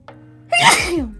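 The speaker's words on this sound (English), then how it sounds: "Oh, I gotta sneeze." A single loud, close sneeze bursts out after a brief quiet intake of breath, then trails off in a noisy exhale.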